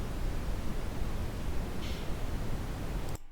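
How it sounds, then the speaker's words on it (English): A muffled, steady hiss made as a layer for an industrial-style soundscape in Audacity, continuous and fairly loud, then cut off sharply just before the end. "it's a kind of muffled hiss kind of sound that we've got there"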